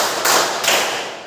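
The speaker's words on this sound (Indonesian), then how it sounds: "Mari kita bertepuk dulu ya anak-anak." Two broadband claps or slaps from a group of children during a counting clapping game in a classroom, each a short burst with a lingering roomy tail, no voices.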